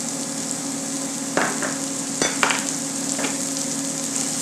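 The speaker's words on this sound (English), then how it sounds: "we're going to start off by adding some of these shallots right to the pan." Chopped shallots sizzle steadily in a hot pan for a sauce, a constant close frying hiss with a few soft stirring scrapes and clinks.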